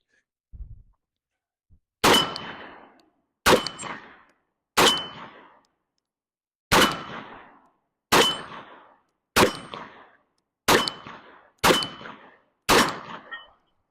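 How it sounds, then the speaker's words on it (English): Nine sharp Glock 48 pistol shots fired one at a time at an uneven, deliberate pace, each a loud crack with a short ringing decay, preceded by faint handling noises. "I'm going to go ahead and get started with the Glock 48 first"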